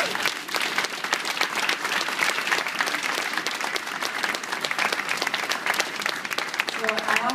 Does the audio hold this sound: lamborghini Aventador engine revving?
no